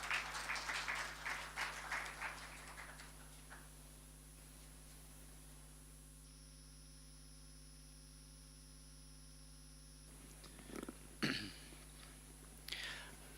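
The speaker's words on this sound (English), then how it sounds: "Let's give him a round of applause" Applause from the audience at a high-level development consultation meeting fades out over the first few seconds, followed by a quiet hum and a few coughs and throat clearings.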